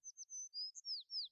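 Birds in a music video give a quick run of bright, high chirps and short whistled tweets, about half a dozen notes in a little over a second, clear and fairly close with no talking.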